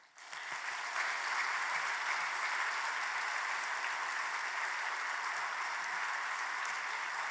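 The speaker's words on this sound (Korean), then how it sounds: "우리 큰 박수로 환영을 하면 좋겠습니다" A church congregation at an evening revival service breaks into big applause to welcome the visiting pastor, a dense, steady roar of clapping that swells in within the first second and holds at full strength throughout.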